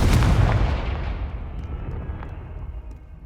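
A Confringo spell explodes in Hogwarts Legacy with a loud, close, booming burst that rolls off into a long rumbling decay over about three seconds.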